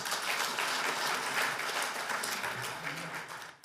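A church prayer meeting congregation gives thanks to the pastor with steady, dense applause from many people, fairly even and sustained before tapering off at the end.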